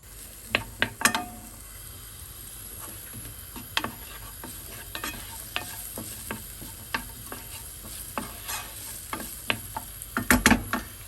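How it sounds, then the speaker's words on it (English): Onion and chili pepper sizzle in a pan for Thai Pad Krapow while a utensil stirs and scrapes, giving irregular clicks and knocks over a steady frying hiss. "First fry the onion and then the chili pepper"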